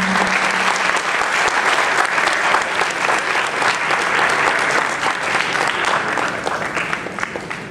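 A conference audience applauds at the close of an architect's keynote lecture, with dense, loud and sustained clapping from a large crowd that fades slightly at the end.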